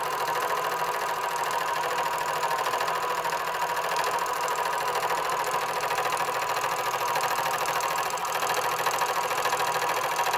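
An Axminster SU1 universal milling machine cuts a piece of aluminium, producing a steady, loud mechanical drone and hum that continues evenly throughout, with no speech.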